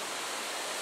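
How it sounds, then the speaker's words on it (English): Small waterfall in a primeval forest on Yakushima, a steady soft rushing wash of falling water, faint and continuous with no other sounds. "we also have a really nice waterfall."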